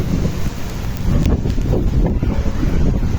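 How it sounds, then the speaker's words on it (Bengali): Strong gusty wind during a hailstorm, bending trees, roars and buffets the microphone in a continuous rushing blast, with no one speaking. "আমাদের গাছগুলো সব নুয়ে পড়ছে বাতাসে।"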